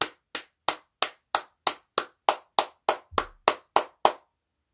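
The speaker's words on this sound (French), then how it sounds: "Eh ben on va l'applaudir" Slow, deliberate hand clapping by a single person, about a dozen evenly spaced sharp claps close to the mic, offered sarcastically after PSG's 0-2 home loss to Rennes in Ligue 1.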